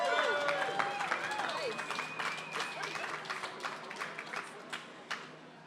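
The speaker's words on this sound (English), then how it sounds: "Can everyone give these guys a round of applause," Applause from a conference audience for an on-stage panel at a marketing leadership forum: scattered claps over a murmuring crowd, with an overlaid voice and tonal background sounds, fading toward sparse claps near the end.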